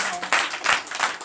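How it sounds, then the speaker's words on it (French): A church congregation at a French-language morning prayer service breaks into applause, a short burst of loud, uneven clapping swelling in several waves. "Veuillez vous lever et donner de vive acclamation à notre Seigneur Jésus."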